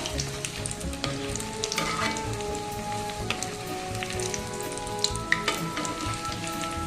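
Vadas frying in a pan of oil and being turned, a steady crackling sizzle close up with a few sharp clicks and taps of a utensil, no talking.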